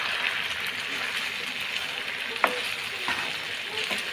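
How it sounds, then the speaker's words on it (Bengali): Cooked beef head skin being fried in hot oil for tempering, a continuous bright sizzle with a few soft clinks and stirring scrapes, close by and without speech. "তারপরে এই যে আবার তেলে একটু বাগার দিলাম"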